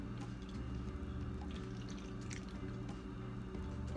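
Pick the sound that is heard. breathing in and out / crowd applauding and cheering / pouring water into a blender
pouring water into a blender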